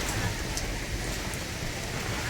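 Steady rain pours down at an open market where a vendor sells mangosteens, a dense, even hiss of drops on surfaces that continues unbroken with no voices.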